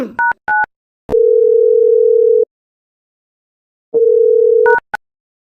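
Telephone call tones: a few short dual-tone dialing beeps, then a long steady tone, a pause of silence, and another shorter tone before more quick beeps. The tones are clear and close, with no one talking.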